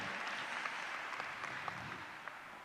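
A panel audience claps faintly and steadily in the distance, with a few louder single claps standing out.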